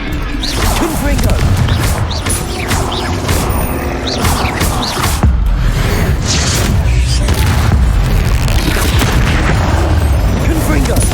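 Repeated booming spell blasts and crashes of Confringo in combat in Hogwarts Legacy sound loud and close, with other spell impacts and dense battle noise around them and voices in the mix.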